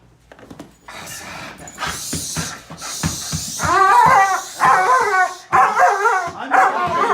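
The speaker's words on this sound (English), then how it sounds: "That is Yorku barking in the background" A police K9 dog barks, yips and whimpers in repeated excited bursts, close and loud, with an agitated, howling edge between barks.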